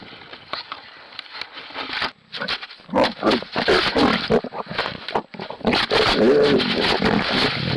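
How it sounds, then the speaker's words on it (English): Lions roar and grunt amid dense rustling and crackling handling noise, the calls building into a loud, rough, continuous bed of growls captured up close on a trail camera. "In the background, you can hear other lions roaring, seemingly joining in on the fun."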